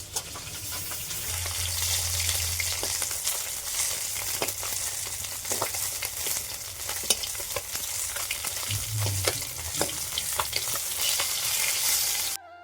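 Fish pieces frying in oil, a steady close sizzle and crackle throughout with intermittent stirring, fading out at the very end.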